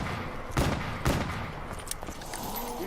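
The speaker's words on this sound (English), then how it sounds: "See, it doesn't take a lot of shots to kill it." Rapid gunfire aimed at the beast in Call of Duty Shadows of Evil zombies mode, a few punchy shots standing out over a busy, rumbling game soundscape.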